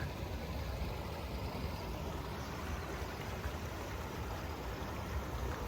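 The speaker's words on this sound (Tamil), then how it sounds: "தண்ணி போயிட்டுருக்குது பாருங்க." Water runs along an irrigation canal beside a tar road on farmland, producing a steady, even rushing wash that stays constant from start to finish, with no voices.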